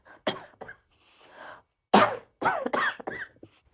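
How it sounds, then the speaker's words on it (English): Several sharp coughs in short bursts, with a brief breathy pause between them, close and fairly loud with no talking. "I want to tell you why I cough"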